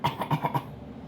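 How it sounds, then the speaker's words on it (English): A quick series of four or five short, forced coughs in a row, close and clipped, then quiet. "You and your fake coughing."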